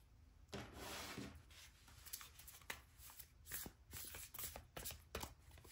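A tarot card deck being shuffled by hand, with crisp riffling and rubbing card sounds in quick repeated bursts, close and fairly quiet, running continuously with no talk.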